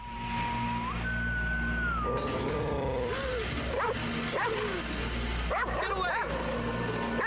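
A dog barks and yips a few times over a loud, busy background of music and voices.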